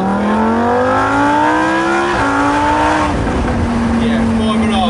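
A Lamborghini Huracan Performante Spyder is floored from about 2,000 rpm, its loud engine note climbing steadily in pitch, then stepping through quick gear changes and pulling hard again, close and dominant throughout.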